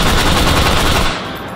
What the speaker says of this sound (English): this is specifically the G3A3, but this is what we have, so this is what we're using